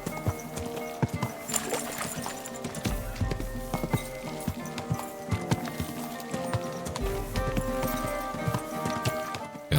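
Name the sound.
horse hooves in video game Kingdom Come Deliverance 2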